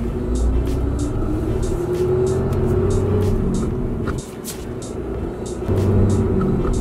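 A Cummins diesel truck drives with a manual transmission, its engine rumbling steadily and close up from start to finish, with a brief dip and a rise in load near the end and no talk over it.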